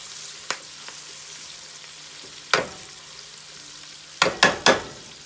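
Onions frying in oil in a pan are stirred with a few distinct scraping strokes, the sizzle soft and steady beneath them and the strokes clustering near the end, with no talking.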